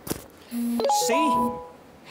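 A Telegram message notification chime, a short bright two-tone ding with a brief tonal flourish, sounding once over quiet background.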